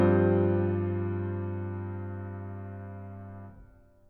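A sustained chord voiced for horns and woodwinds swells in and slowly fades over about three and a half seconds, then cuts off with a short soft tail, played alone.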